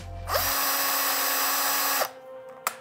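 A cordless drill-driver running at its first speed setting, a loud close whine that spins up, holds steady for about a second and a half, then winds down, followed by a short click.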